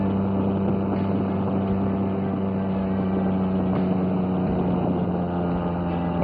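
Steady close engine drone of a three-wheeled golf cart touring a speedway under construction, a continuous hum that wavers slightly with throttle, roughened by wind noise.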